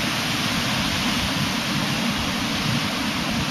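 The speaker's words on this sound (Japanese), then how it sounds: "ただ少し風があります、波があります。" Wind and waves by the sea at sunset, heard as a loud, continuous broadband rush of wind noise with a low surf rumble beneath it, unbroken for the whole stretch.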